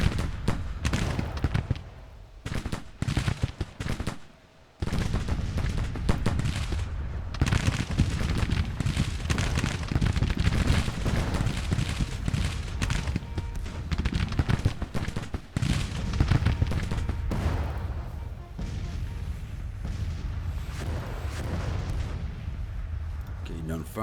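Dense artillery and musket gunfire roll through a Civil War battle in the strategy game Grand Tactician, a near-continuous loud barrage of booms and crackle with one brief lull, while someone talks over it.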